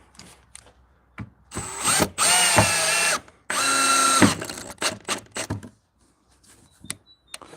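A power drill drives screws into a wooden folding bench in two loud sustained whirring bursts, each a couple of seconds long, surrounded by scattered clicks, knocks and handling noises close by.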